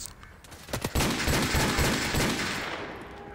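Rapid gunfire rings out in Call of Duty Remastered: a few sharp close shots, then a sustained burst of automatic fire that fades out, with no voices.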